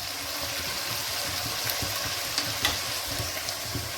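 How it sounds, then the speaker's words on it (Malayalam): Prawns being stirred in a pan of hot oil for a Kerala-style konch theeyal, with a steady close sizzle and a few soft scraping stirs throughout, no voices. "ഒന്ന് ഇളക്കിയെടുക്കണം"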